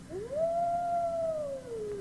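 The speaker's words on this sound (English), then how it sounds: "From the forest came a long-drawn howl." A long-drawn howl from a forest, a sound effect in a radio drama: a single wolf-like cry rises, holds steady for over a second, then slowly falls away. It is clear and alone, with no talking.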